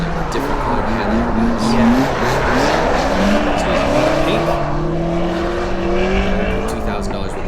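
Tires squeal and screech continuously on a drift car at a Lone Star Drift pro-am competition, loud and sustained with engine drone beneath and voices talking over it.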